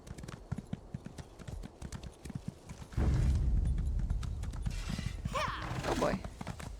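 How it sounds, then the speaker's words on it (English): Horse hooves in the video game ESO Morrowind, a quick rhythmic clip-clop that swells into a louder rushing gallop with mechanical clatter, with no talking. "Go, horse, go. Run! Run like the wind, horse."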